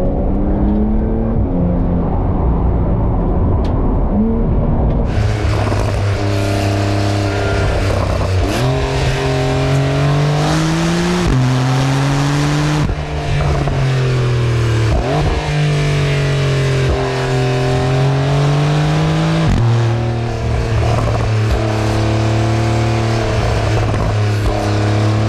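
A Porsche 911 992-generation Carrera 4S accelerates hard along a country road, its loud engine note rising and dropping in pitch through repeated gear changes, close and continuous with no talking.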